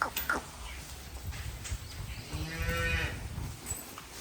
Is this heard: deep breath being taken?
no